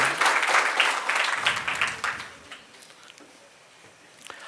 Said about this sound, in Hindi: तो तालियां इस अमेजिंग रस्सी के लिए